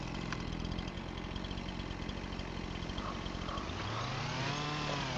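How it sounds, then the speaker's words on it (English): A chainsaw runs steadily at close range while cutting deadwood on a farm, a continuous buzzing engine drone that rises slightly in pitch toward the end, with no talking. "Getting a little quicker with the chainsaw action too here."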